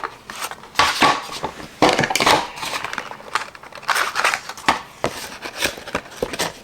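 A small heart punch cutting heart shapes from card material, giving repeated close crunchy clicks and scraping snaps in irregular bursts, fairly loud with no voice over them.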